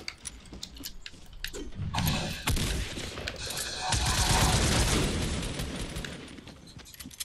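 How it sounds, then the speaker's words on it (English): Bursts of gunfire from players shooting at each other in a Fortnite match, starting as scattered sharp shots and swelling into dense, sustained rapid fire that rises and fades over several seconds. "They're shooting at each other"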